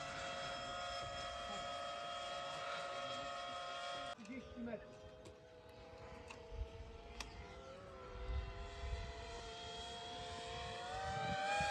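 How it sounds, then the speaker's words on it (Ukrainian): Drones fly overhead at a wartime site in Ukraine, making a steady, shifting motor whine that rises and falls as they pass. Voices can be heard faintly in the background. "Літають дрони, це вже слідуючий, третій, по-моєму, по счету йде."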